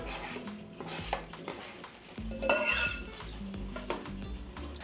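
Eggs fry in a pan in a home kitchen, a soft steady sizzle mixed with clinks of utensils and pans, close by and moderately loud.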